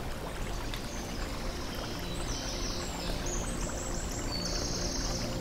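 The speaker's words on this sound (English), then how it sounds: "You hear the buzzing of insects and the babbling of the brook." A babbling brook trickles and splashes steadily and close by in a summer outdoor setting, a continuous even wash of flowing water with faint high bird calls drifting over it.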